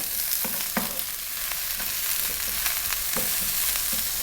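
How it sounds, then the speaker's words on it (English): Garlic and onion fry in a pan for tofu broccoli, a continuous close hiss and sizzle broken by irregular soft scraping taps of constant stirring. "The garlic, 1 cup of onion, and I'm going to go just for 2 minutes stirring all the time"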